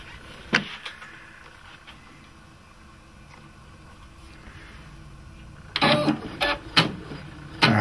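A Brother PE770 embroidery machine moves its carriage with a faint low whir, then a few sharp mechanical clacks and ticks near the end, close by with no talk.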